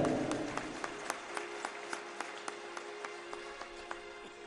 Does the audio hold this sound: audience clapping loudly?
yes